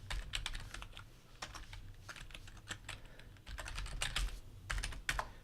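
Keys clack on a computer keyboard as a user ID and password are typed in bursts of quick taps with brief pauses, close and fairly quiet, with no talking.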